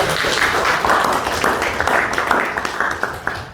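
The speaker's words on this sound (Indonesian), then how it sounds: "Beri tepuk tangan untuk Arafat" Close, loud clapping from students in a classroom, a brisk burst of overlapping hand claps that fades into a few scattered claps.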